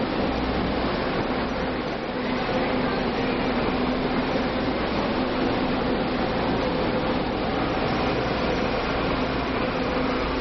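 Inside a packed passenger train running on a line in Taiwan, a steady, even rumble and hum of the moving carriage continues throughout, with no clear voices above it.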